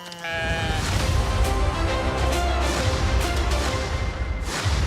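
A sheep bleats loudly and close by in one long wavering, nasal cry that runs almost the whole time, with a second call starting near the end.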